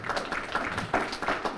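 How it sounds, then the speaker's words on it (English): A brief burst of audience clapping at a college program's end-of-year ceremony, dense and steady across the short span. "give them a round of applause"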